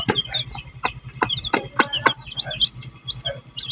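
A mother hen clucks softly near a fresh brood of newly hatched chicks, whose thin high peeping overlaps the low clucks in a busy, close, continuous chatter.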